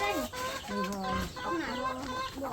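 Hens cluck and murmur in a farm flock of about seventy chickens at evening egg-collecting time, a run of close, overlapping calls with rising and falling tones and no clear speech.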